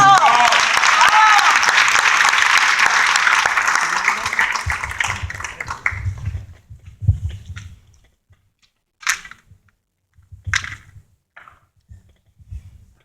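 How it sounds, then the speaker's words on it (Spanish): Sustained applause from a gathering of comrades at UNAM's Faculty of Philosophy and Letras, loud for several seconds and then fading into scattered claps and quiet shuffling. "Un aplauso, compañeros, por favor."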